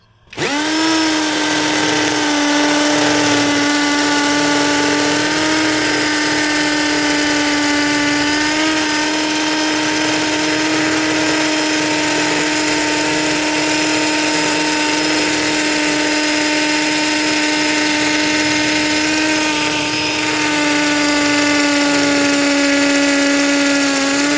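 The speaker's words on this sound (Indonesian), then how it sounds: "Kita uji pengeboran pada beton ya. Jadi modenya mode impact speed 2." A loud, continuous whine of a brushless cordless Xenon X-CDID707N impact drill in impact mode, speed 2, with a 10 mm bit, boring steadily into concrete, close up, running for the whole stretch with a slight pitch wobble.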